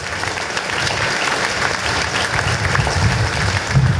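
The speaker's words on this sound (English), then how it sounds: "If they could rise up and get a round of applause for these women and men" A crowd at a transit line opening ceremony applauds council members, with dense, steady clapping throughout that grows slightly louder near the end.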